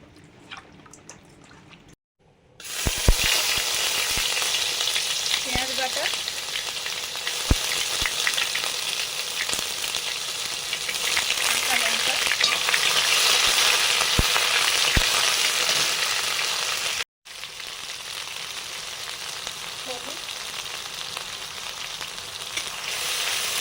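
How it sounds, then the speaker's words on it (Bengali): Bombay duck fish frying in a kadai in mustard oil with lemon juice and salt gives a loud, steady close sizzle. It starts after a quiet opening, is broken by one brief cut, and carries occasional soft stirring clicks. "কড়াতে লোটে মাছ রান্না করব সর্ষের তেল দিলাম লেবুর রস আর নুন দেওয়ার সঙ্গে সঙ্গে কত জল বেরিয়ে গেছে"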